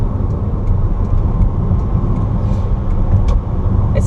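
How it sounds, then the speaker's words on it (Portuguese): A Lifan 530 car engine accelerating in fifth gear drones steadily at close range, a continuous low rumble with road noise and no clear rise in pitch. "Quando você pisa, você ouve que o motor responde"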